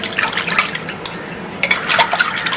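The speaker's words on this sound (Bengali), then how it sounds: "আমি এখন মাছটা কেটে ধুয়ে নিচ্ছি" Cut hilsa fish is washed in water, with splashing and swishing, occasional clinks against a pot or bowl, and bursts of running water in irregular pulses close by.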